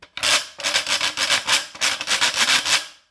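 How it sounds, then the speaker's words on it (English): A washboard played as a percussion instrument is scraped in fast repeated rasping strokes, loud and close, with a short pause partway through. "Washboard."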